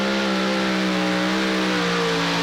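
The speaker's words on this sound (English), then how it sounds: "Listen to those engines sing as he's digging in." Super modified pulling tractor engines roar at a steady, high, sustained pitch at a tractor pull, loud and continuous with no talk.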